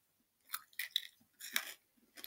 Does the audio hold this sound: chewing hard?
yes